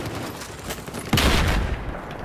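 Rapid automatic MX4 gunfire in Battlefield Hardline rattles off as a continuous burst, getting a louder, harsher crack partway through, near and loud without talk.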